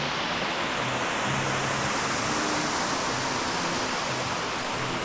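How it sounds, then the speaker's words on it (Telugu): Rattibali waterfall near Pottangi, Odisha pours down from above over rocks, a loud, dense and unbroken roar of falling water. "ఇదే రత్తిబలి వాటర్ ఫాల్"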